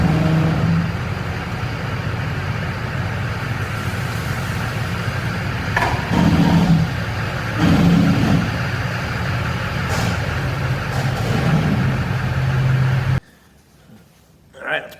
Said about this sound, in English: All right, so we got the truck back in here. Gonna try to put it up on some ramps.